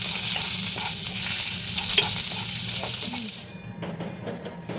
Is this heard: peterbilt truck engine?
no